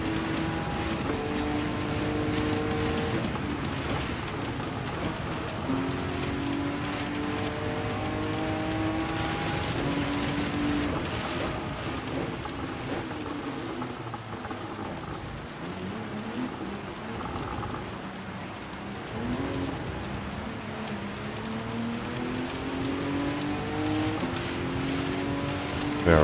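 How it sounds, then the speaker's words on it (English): Steady heavy rain roars continuously in the racing video game Gran Turismo 7, with rising and falling engine-like tones running underneath throughout. "Yeah, pouring rain."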